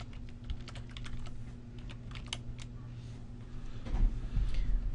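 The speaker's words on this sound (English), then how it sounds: "In the address bar at the top, type in evernote.com." Typing a web address on a computer keyboard: a close, moderately quiet burst of rapid key clicks in an irregular rhythm, tapering off into a few soft thumps over a faint steady hum.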